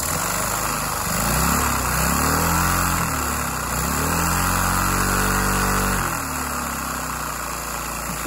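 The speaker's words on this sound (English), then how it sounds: "so if I rev it up." A small homemade vacuum engine revving, its steady mechanical hum rising and falling in pitch across several surges, then climbing to a sustained high speed before settling back, close and continuous.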